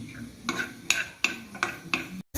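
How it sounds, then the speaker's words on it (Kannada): Garlic and ginger frying in a little oil in a pan for mango sambar, with a quiet sizzle under several sharp scraping stirs of a spoon against the pan at an uneven pace. "ಬೆಳ್ಳುಳ್ಳಿ ಶುಂಠಿ ಇವನ್ನ ಸ್ವಲ್ಪ ಎಣ್ಣೆ ಹಾಕ್ಕೊಂಡು ಹುರ್ಕೊಳ್ತೇನೆ"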